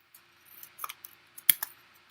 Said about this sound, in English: come in with my scissors and trim it down.